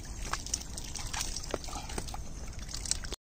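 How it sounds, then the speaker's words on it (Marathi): Water drains and trickles through a fishing net lifted out of a coastal creek, a continuous close splashing and dribbling with small sloshes and drips, alone without speech until it cuts off at the end. "जाल वरती करते जेणेकरून पाण्याच्या सोबत सगळी मच्छी परत जाईल"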